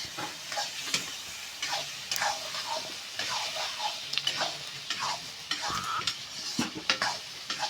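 Dried chili and cumin seeds fry in hot oil in a kadai, giving a steady close sizzle punctuated by clinks and scrapes of a spoon stirring the pan, with no voices.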